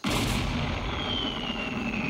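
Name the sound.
cartoon cannon firing with a boom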